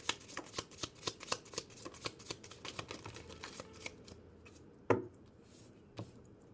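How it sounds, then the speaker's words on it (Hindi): Tarot cards being shuffled by hand, a run of quick riffling and tapping bursts in a steady rhythm, then a sharper snap and a final tap, close and quiet with no talking. "एक शफल और कर लेती हूँ।"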